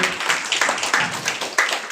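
An audience at a meeting in a university hall claps in a brief burst of applause, fairly quiet and scattered, with uneven hand claps spread across about two seconds.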